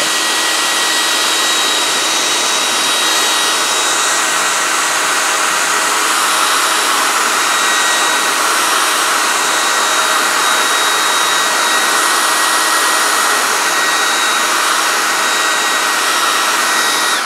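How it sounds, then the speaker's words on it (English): A hair dryer blows steadily and loudly up close for a long stretch, drying a fresh coat of parchment paint on a craft surface. The roar stays unbroken throughout. "So I'm going to dry it before I do that."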